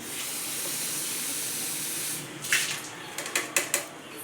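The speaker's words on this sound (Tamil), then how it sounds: "இது வந்து கொதிச்சிருச்சு" Sugar syrup for rasgulla boils in a pot, giving a steady, close rushing hiss that cuts off abruptly and is followed by a handful of sharp splashes and clinks, with no talking.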